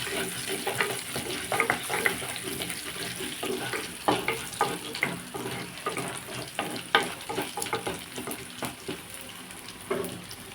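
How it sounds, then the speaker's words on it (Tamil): Garlic and chana dal sauté in a pan for bitter gourd poriyal, crackling with a steady frying sizzle while a spatula stirs and scrapes in repeated strokes, close and fairly loud with no voices. "பூண்டு வதங்கிட்டு பூண்டு கடலப்பருப்பு வதங்கிடுச்சு"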